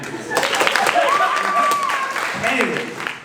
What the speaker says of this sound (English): Let's have a round of applause for that man.